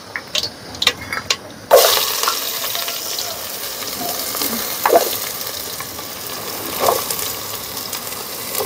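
Chopped onions with curry leaves and salt sauté in a hot pan: an abrupt loud hiss of frying settles into a steady close sizzle, with occasional stirring clinks and no talk.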